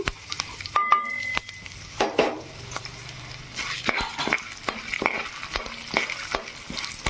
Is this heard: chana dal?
yes